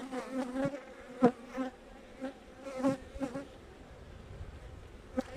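Carniolan honeybees buzz around an open hive in a beekeeping yard: individual bees drone past close by in repeated rising and fading passes over a quiet background.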